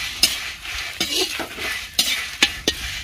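Curry leaves and spices frying in a pan, a continuous crackling sizzle punctuated by several sharp spoon scrapes and taps against the pan, with no talking.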